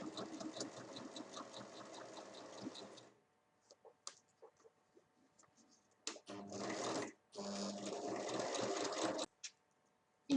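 A sewing machine stitches the seam of a large bag in close, fast rattling runs: a three-second burst, a pause with small clicks and fabric handling, then two more bursts broken by a brief stop.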